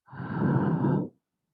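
Single deep, breathy exhale, close and moderately loud, lasting about a second before stopping into silence.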